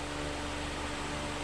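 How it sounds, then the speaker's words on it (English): A fan runs steadily in a hot, humid workshop, giving a constant broadband whoosh with a low hum, close and unchanging, with no talking. "You have to excuse the fan noise."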